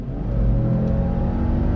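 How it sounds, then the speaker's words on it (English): A 2020 Subaru Legacy XT sedan with all-wheel drive accelerating from a slow roll, heard from inside as a steady, rising engine drone and whir, loud and close, with no talk. "But let's go ahead and do another acceleration test here."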